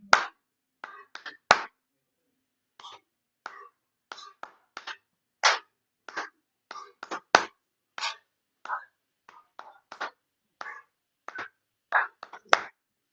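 Sharp claps keep a steady rhythm for a kids' home exercise routine, around twenty single and paired claps spaced across the stretch with quiet gaps between, close and fairly loud, with no voices.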